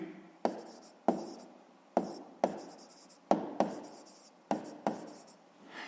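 Pen writing on paper while working a sixth-grade maths exercise, heard as a series of about nine short, sharp scratchy strokes, each tapering off, close by and alone with no talk.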